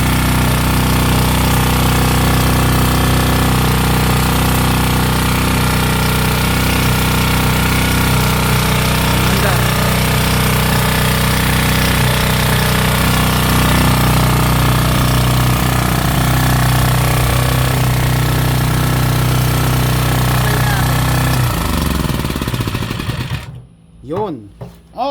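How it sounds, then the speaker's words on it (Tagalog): An old open-frame generator engine runs loud and steady with a rattling, hammering drone and whirring fan, then sputters and cuts out near the end. "Okay, so ito yung mga open type na generators."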